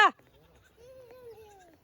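A single drawn-out goat bleat, wavering and fairly close, following a brief sharp sound at the start.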